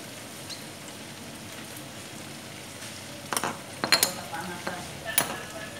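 Shrimp stirred with oyster sauce in a pan, a run of scraping, clinking spoon strokes starting partway through over a steady low sizzle, fairly quiet and close.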